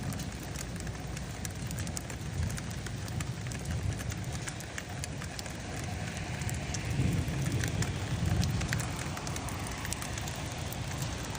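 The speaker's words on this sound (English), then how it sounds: "that pea-sized hail falling in Norman" Pea-sized hail falling hard in Norman, Oklahoma, as a dense, steady patter and crackle on surfaces that runs without a break for about eleven seconds, with nobody talking.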